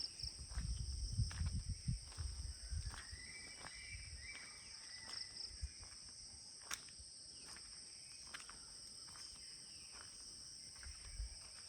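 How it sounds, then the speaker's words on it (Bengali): Crickets chirping in a steady high-pitched drone, soft and continuous, with a few faint thumps and rustles nearby, in a quiet rural setting where monkeys also call at times. "কিন্তু শুধুমাত্র ঝিঝি পোকা ডাকছে"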